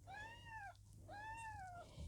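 A lilac Birman kitten gives two clear, drawn-out meows close by, separated by a short pause, against a quiet background.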